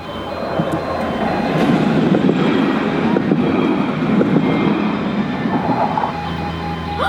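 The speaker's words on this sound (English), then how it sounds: "We've just had 2 trains over here." Trains rumble past close by, a loud rolling roar that swells and fades with faint rail clatter, no clear speech.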